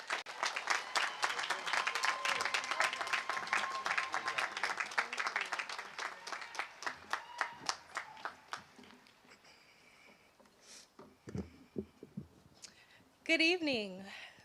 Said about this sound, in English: please give a large round of applause to Mildred